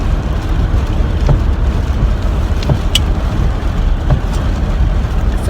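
Steady rain falls outdoors on a wet day, a continuous loud broadband wash with a low rumble, a few faint brief ticks scattered on top and no talk.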